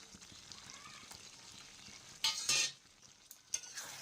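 Chicken and potatoes are stirred in a frying pan, a soft steady sizzle with scraping spoon strokes and a couple of louder bursts of frying and utensil clatter.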